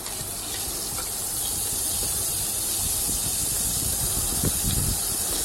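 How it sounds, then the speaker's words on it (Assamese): Sliced onions fry in fish oil in a pan, giving a steady, close, bright sizzling hiss that holds evenly throughout with no talking. "পিঁয়াজখিনি তেলত মই ৰঙচুৱা হোৱালৈকে ভাজি ল'ম।"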